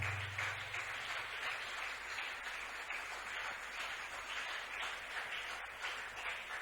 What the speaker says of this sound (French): Est-ce qu'on peut acclamer très fort pour Jésus?